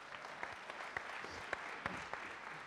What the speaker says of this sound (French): Est-ce qu'on peut les applaudir, les remercier?